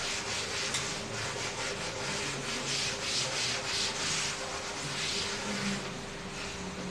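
Writing is rubbed off a classroom board, a continuous close scrubbing and rubbing sound with rhythmic strokes, moderately quiet and with no talk.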